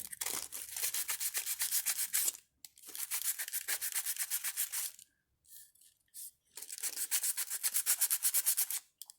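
Sandpaper rubbing across the face of a Blythe recast doll, rapid rhythmic back-and-forth scratching strokes in three close bursts separated by brief pauses and small handling noises.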